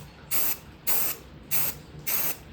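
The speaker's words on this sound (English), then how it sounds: "it's time to spray it in with the air filter oil" Aerosol air filter oil is sprayed onto a K&N air filter in four even, hissing bursts about half a second each, close and steady with short pauses between, and no speech.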